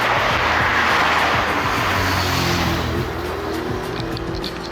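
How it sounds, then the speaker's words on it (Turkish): Heavy road traffic rushes past on a Budapest street by the river, a steady, loud roar of engines and tyres with no gaps. "Bayağı trafik var."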